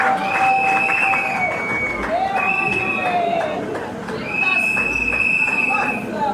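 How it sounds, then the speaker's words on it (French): Cabaret audience claps at a show, a busy patter of applause and crowd noise with sustained musical tones ringing over it. "Je demande qu'on puisse applaudir très très fort pour M. Dan Kazama"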